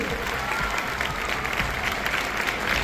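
Sustained applause from an audience at a general knowledge competition event, honoring dignitaries seated on stage; dense, steady clapping at close range throughout.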